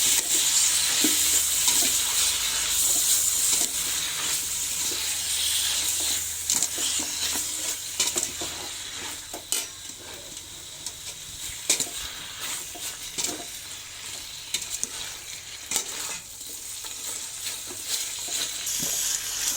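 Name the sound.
stir-frying spice paste and prahok in a pan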